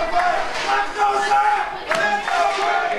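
Loud crowd at an RWA professional wrestling event, sustained cheering and shouting with bursts of yelled chants rising and falling throughout, voices blending into a dense roar.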